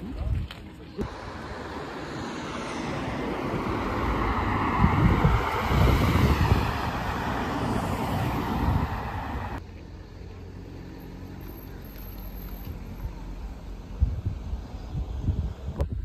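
Wind blowing across a microphone outdoors at a Peugeot Sport car gathering in Gérardmer, a loud buffeting roar that surges and then drops off abruptly, with someone talking over it.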